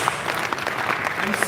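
Applause from a conference audience for a panel on law and regulation, a short steady wash of clapping at moderate level with some voices mixed in.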